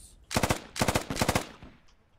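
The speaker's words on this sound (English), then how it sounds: "that was a close rocket" A nearby rocket explosion in the military shooter Squad, heard as three rapid loud bursts of rattling blasts in quick succession, followed by a fading tail.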